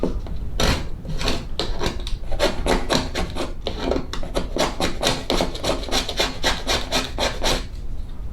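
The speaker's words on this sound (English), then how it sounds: "I'm gonna take just my pocket knife and try to scrape it" A pocket knife scrapes along dog-scratched wood door trim in repeated close, rasping strokes, first slower and then in a quick, steady back-and-forth rhythm, with no voices.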